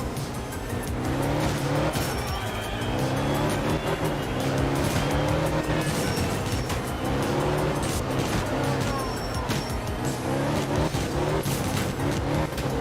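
A rally car in the racing game Art of Rally, its engine revving continuously and loudly while the tires squeal and skid through corners, the engine note rising and falling throughout with no break.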